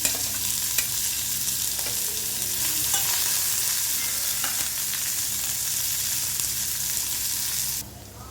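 Coriander leaves and onions sizzle steadily in hot oil in a pan, stirred now and then with a spoon, a continuous close frying hiss with occasional scrapes and no talk.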